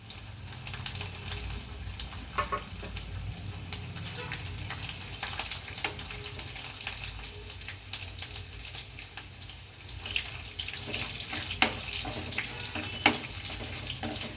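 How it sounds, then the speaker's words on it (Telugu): Mustard seeds, cumin, garlic and three dried red chillies fry in hot oil, giving a soft, steady sizzle with scattered pops and light spoon scrapes throughout. "తర్వాత ఆవాలు జీలకర్ర ఎండుమిర్చి మూడు వేసుకుందామండి"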